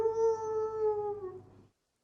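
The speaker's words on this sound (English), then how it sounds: "from across the battlefield, you hear the werewolves sort of howl." A single long werewolf howl rings out as a sound effect, a steady sustained tone sliding slightly downward before cutting off abruptly, followed by silence.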